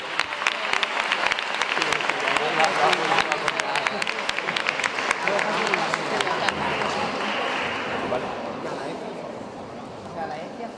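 A crowd claps for the judging panel at a Spanish and English debate tournament final, a dense, loud burst of applause that holds steady for several seconds and then fades gradually toward the end.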